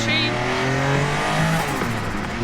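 A Porsche 962 Group C race car at a Group C reunion in Leipzig, its engine revving up close and loud with pitch rising and falling across a few quick throttle blips.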